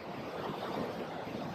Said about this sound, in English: I have to go under these waves.